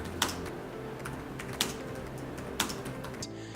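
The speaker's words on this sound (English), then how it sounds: "The XPS keyboard is great, from the typing experience to the responsiveness of the keys" Sparse typing on a Dell XPS 15 7590 laptop keyboard, a few distinct key clicks spaced about a second apart against a quiet background hum.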